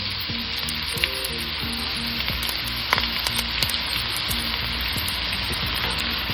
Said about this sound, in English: I have 1/4 cup of oil in a pan. I'm going to add 2 medium chopped onion.